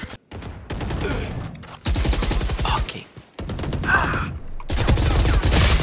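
Rapid bursts of gunfire from the shooter video game Valorant in several separated volleys, loud and close, with short quiet gaps between them and occasional faint talk underneath.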